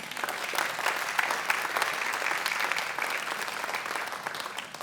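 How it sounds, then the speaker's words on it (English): Steady applause from a ballet talk audience, dense clapping throughout at a moderate, even level with no voices standing out. "So please give them a round of applause."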